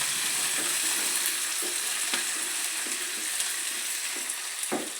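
Food fries in a pan with a steady hiss and crackle while a utensil scrapes and stirs it in occasional sharp knocks, close and without speech.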